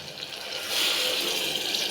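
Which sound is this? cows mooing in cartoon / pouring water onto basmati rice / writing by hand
pouring water onto basmati rice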